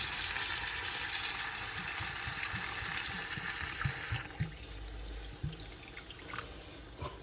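Absolut vodka pours steadily into chicken curry in a sizzling pan, a continuous rushing hiss that thins out toward the end, with scattered drips and small pops.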